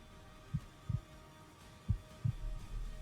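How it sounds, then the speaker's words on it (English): A heartbeat sound effect during a Dungeons & Dragons 5e game thumps in low paired beats, starting faint and swelling louder with a rising throb by the end. "you hear the heartbeat continue to get louder and louder"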